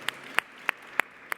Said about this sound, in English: So a round of applause to the MGF and to the great Saudi spirit